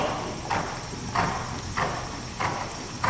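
Horse hooves in a dressage arena, a soft, regular clip-clop of footfalls at canter pace, moderately distant and muffled, with no clear speech.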